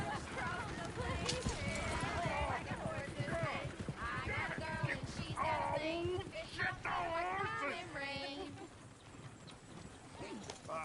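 Horse hooves clip-clop steadily through a Red Dead Redemption 2 scene, a continuous rhythmic patter running under near, almost constant talking voices.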